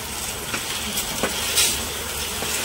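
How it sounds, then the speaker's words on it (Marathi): A spoon stirring wheat and jaggery in a hot pan, with soft scraping strokes over a steady close sizzle and hiss for a few seconds, no talking. "गूळ आणि गहू मिक्स होतील असं हलवून घ्यायचं"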